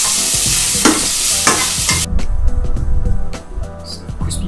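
Salmon with Cajun seasoning fries in a pan, giving a steady loud sizzle broken by scraping and stirring sounds, with no talking.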